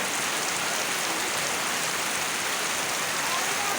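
Steady, dense rain falls in an outdoor setting where people are bathing and sweeping, a continuous broadband hiss with no breaks and no talk.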